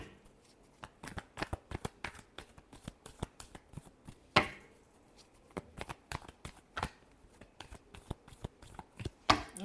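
Tarot cards being shuffled by hand, a fast run of crisp riffling flicks and slaps in irregular bursts, close and fairly quiet, with no talk.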